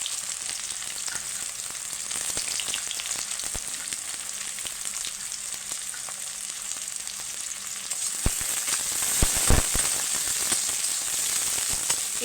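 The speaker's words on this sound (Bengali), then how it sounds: "এবার পেঁয়াজ দিয়ে দিচ্ছি।" Onions sizzle and crackle steadily in hot oil with whole spices, a close, continuous frying hiss that grows louder and sharper near the end, with a few stirring clatters and no voices.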